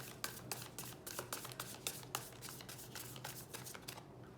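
Tarot cards being shuffled by hand, a quiet run of quick crisp riffling flicks repeating steadily for about four seconds, close but soft, with no talking.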